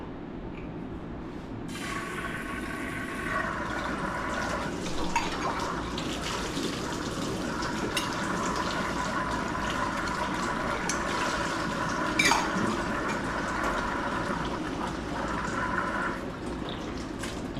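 Hot water gushes steadily from a tap in a home laundry area, a continuous close hiss and splash that swells after the first seconds and carries on without talk.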